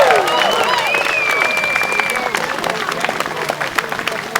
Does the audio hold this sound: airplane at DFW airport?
no